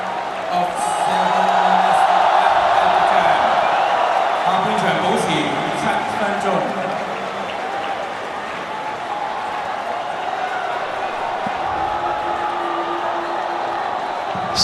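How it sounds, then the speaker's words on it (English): Stadium crowd at an Al Nassr versus Al Ittihad football match applauding and cheering as Cristiano Ronaldo leaves the field, a broad sustained roar that swells early then settles into a steady murmur, with a commentator talking over it. "affording the crowd the opportunity to cheer him from the field of play"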